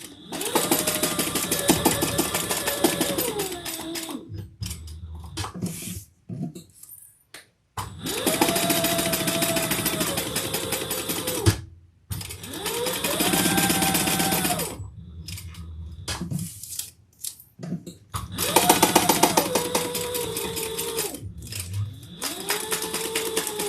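Sewing machine basting stitches around the edge of a leather compact clutch wallet, running in several long loud bursts with short pauses between them, motor pitch rising and falling with speed, close and alone without talk.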